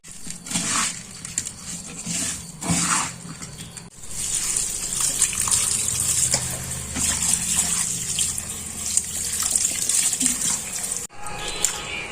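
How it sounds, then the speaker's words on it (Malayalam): Cleaned fish, two kilos of small kozhuva, are washed with rock salt under running water, which gushes and splashes steadily and close by, with brief pauses in the flow. "കഴിഞ്ഞാൽ നമുക്കിത് കല്ലുപ്പിട്ട് നന്നായി കഴുകിയെടുക്കാം"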